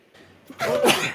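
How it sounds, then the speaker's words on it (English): A single loud sneeze with a short breathy wind-up, close to the mic, with no talking around it. "I hate my sneezes because that one sent shocks through my arms"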